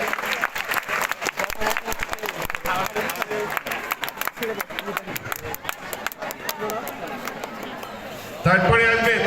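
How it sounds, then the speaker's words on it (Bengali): Classroom applause for a student announced at a roll call, many hands clapping steadily and fairly close for several seconds, with talk and crowd babble mixed in and a louder burst near the end. "সবাই করতালি"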